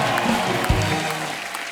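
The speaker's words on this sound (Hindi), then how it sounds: "इसके लिए जोरदार ताली हो जाए" Studio audience on a Kapil Sharma Show comedy taping bursts into applause, a dense, steady wash of clapping that holds strong for under two seconds.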